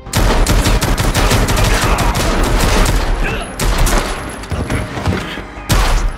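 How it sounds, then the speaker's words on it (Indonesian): Loud, rapid bursts of gunfire crackle almost without pause through a gangster film shootout, with booming shots layered in a dense fusillade. "untungnya detektif Dennis berhasil memenangkan baku tembak tersebut"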